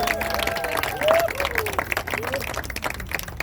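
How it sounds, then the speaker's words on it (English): Crowd clapping outdoors in a parking lot at a Jeep and motorcycle peace ride, a steady spatter of applause mixed with voices and chatter. "just clap it up for you"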